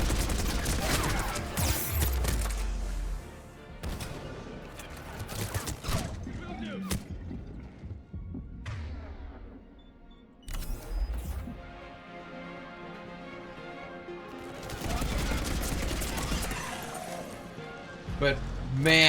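Bursts of automatic fire from the Revenant assault rifle in Mass Effect 3, loud heavy rattling volleys separated by pauses, with game sounds and a voice talking over them.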